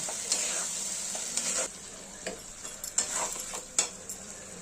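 Boiled potatoes frying in hot oil for Kashmiri dum aloo, a continuous soft sizzle broken by intermittent spoon scrapes and stirring knocks against the pan, close by with no talk.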